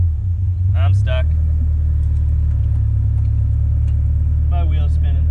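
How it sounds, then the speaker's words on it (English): A lifted Mazda Miata stuck off-road sits with its engine droning in a loud, steady low rumble as a wheel spins, while people talk briefly over it. "My wheel's spinning."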